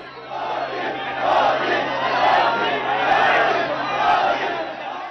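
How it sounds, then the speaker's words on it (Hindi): A dense crowd of party supporters cheers and chants at the BJP office in Ahmedabad on election victory day, May 16, 2014. The roar is loud and continuous and swells in a rhythmic pulse about once a second. "अपनी मां से मिलने के बाद नरेंद्र मोदी अहमदाबाद के बीजेपी दफ्तर पहुंचे, जहां स्वागत करने वालों की भीड़ लगी हुई थी।"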